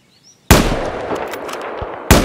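Gunfire in the Battlefield video game: a loud, close burst of sustained rapid shots that rolls on for over a second and a half, cut off, then another sharp shot begins.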